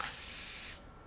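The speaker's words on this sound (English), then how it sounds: "it keeps going. So it's nice to have that continuous mist of water." A handheld continuous-mist water spray bottle used for hair styling releases one steady, close hiss of fine mist that runs for most of a second and then cuts off, with no talking.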